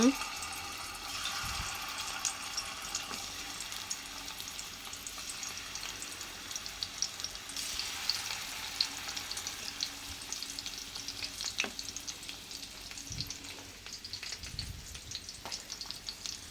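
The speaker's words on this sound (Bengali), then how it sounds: "এর মধ্যে তেল গরম হয়ে গেছে, এখন মাছটি দিয়ে দিম।" Small native koi fish from a wetland frying in hot oil, a continuous dense crackling sizzle with scattered pops and occasional faint background sounds, steady throughout.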